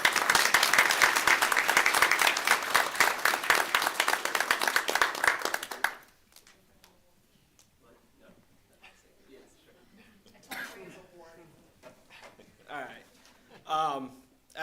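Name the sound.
applause for Mr. Johnson at school board meeting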